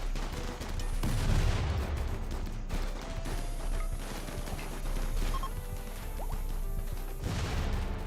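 Gunfire rattles in RimWorld as turrets and raiders exchange shots: dense bursts of cracks and thuds, loud and continuous, with heavier impacts mixed in and no talk.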